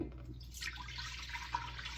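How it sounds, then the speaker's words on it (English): Redbud jelly liquid pours steadily into a pot, a continuous watery trickle with a few brief splashy drips, fairly close and moderately quiet. "we're going to pour this into the pot"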